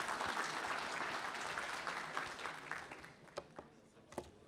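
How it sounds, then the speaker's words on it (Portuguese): Audience clapping after a talk on AI and machine learning, a dense wash of applause that thins out toward the end into a few scattered louder claps. "Uma salva de palmas."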